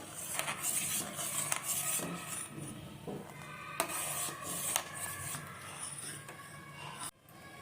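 A spoon stirs a milk drink for milk sherbet in a metal pot, giving repeated close scraping and clinking strokes against the pot in an uneven rhythm, with one sharper knock near the end.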